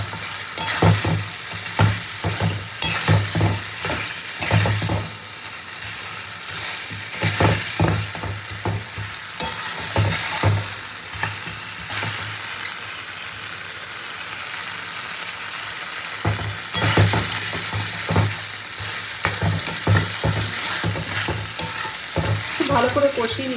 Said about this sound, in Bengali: ভালো করে কষিয়ে নিতে হবে মশলার সঙ্গে মাছটা।